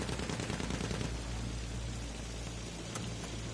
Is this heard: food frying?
no